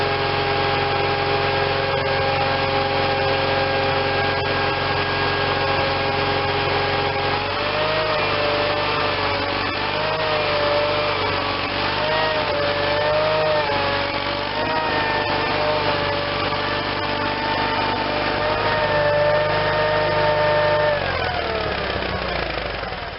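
A Case Ingersoll garden tractor with an N46 mower deck idles and creeps forward over the deck, its small engine running steadily and loud and close for the whole stretch, the pitch shifting slightly as it moves and then settling near the end.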